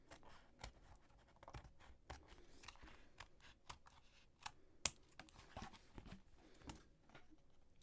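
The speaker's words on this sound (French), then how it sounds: "Donc là, je coupe le tour, tout le tour pour qu'il soit bien coupé." Scissors snip all the way around the edge of a piece of paper, a quiet irregular series of crisp cuts and scratchy rustles close by, with no talking.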